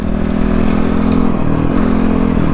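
A CX 250 SE dirt bike ridden along a highway, its engine droning steadily and close with a clattering low throb that dips briefly twice, no voices.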